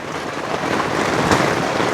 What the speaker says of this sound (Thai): ฝนนี่แล่นมาก